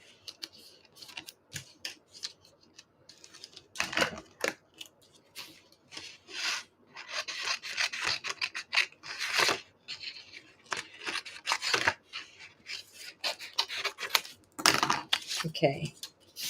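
Paper being cut with scissors for snowflake crafts, a series of quick snips and rustles, close and fairly quiet, with brief pauses between cuts.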